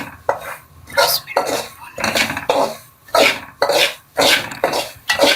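Semolina roasting in ghee in a pot, loud close rhythmic spoon scrapes and clanks against the metal, repeating roughly every half second with little sizzle.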